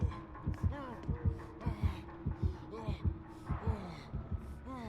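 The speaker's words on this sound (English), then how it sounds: "I hear a heartbeat," The killer's heartbeat warning in Dead by Daylight thumps in a steady, deep double-beat rhythm, loud and close, while a voice speaks intermittently over it.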